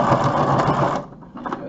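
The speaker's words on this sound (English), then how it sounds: "My sewing machine is so old" An old sewing machine whirs through a single stitch in vinyl, a loud mechanical burst lasting about a second, followed by quieter handling sounds and a brief voice.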